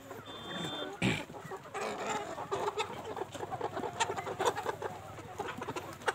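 Desi chickens cluck and call on a poultry farm, with a loud close squawk early on followed by scattered, overlapping clucks and chirps of varying loudness over a low steady background hum.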